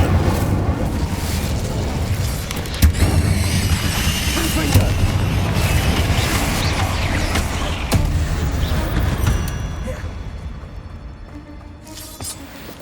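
An Incendiary fire spell goes off in Hogwarts Legacy, a loud booming burst with crackling, rumbling texture that carries on for several seconds among other game sounds before gradually thinning out.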